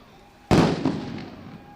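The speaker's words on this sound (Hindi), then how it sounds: "विंडो एंट्री की तैयारी से आतंकियों का ध्यान भटकाने के लिए जोरदार धमाके" One sudden loud blast goes off during an outdoor CISF commando demonstration at a 53rd anniversary event in Ghaziabad, with a sharp bang that decays in a rumbling echo.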